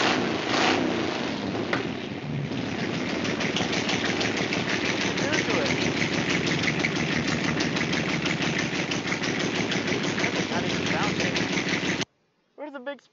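A Datsun 240Z engine starts and revs, giving a loud, continuous, rough roar with a rapid knocking pulse that holds steady for about twelve seconds before cutting off abruptly, followed by a brief faint sound.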